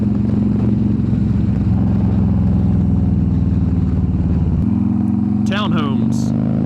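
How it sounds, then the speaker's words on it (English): Steady, loud 2015 Harley-Davidson Street Glide engine drone with a low throbbing exhaust, recorded near the exhaust, shifting pitch partway through as the bike rides on. "just put the mic by the exhaust and let you guys hear that"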